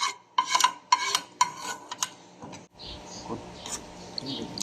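Spoon or utensil clinking and scraping in a pan as spicy beef salad with chili is stirred, a run of sharp metallic taps followed by softer scraping, close and moderately loud.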